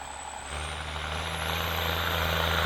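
A 125 HP 8340 tractor ploughing with a four-frame, five-disc, 28-inch breaking plough gives a steady, loud diesel drone with a low throb that rises slightly in strength and holds without a break.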